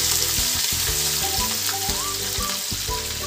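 Cumin and ground ginger sizzle steadily in hot butter in a pan for pav bhaji, a loud, even frying hiss heard close up with faint tonal sounds underneath.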